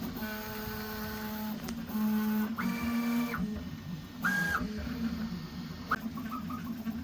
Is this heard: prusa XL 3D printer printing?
yes